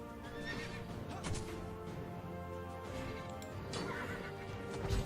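Horse neighing and hooves clip-clopping during a Forge of Empires video game battle, heard over continuous game music with no talk.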